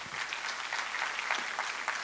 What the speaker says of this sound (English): And a round of applause and gratitude for Mr. Mukund Kulkarni